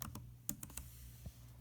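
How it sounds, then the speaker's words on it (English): Keys on a computer keyboard are pressed while Shift is held, a few sparse, faint clicks and taps at irregular intervals in a quiet room. "So I make those symbols by holding down Shift and then clicking."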